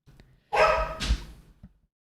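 A dog gives one loud, close bark, followed by a short yip and a faint trailing sound, alone in an otherwise quiet room.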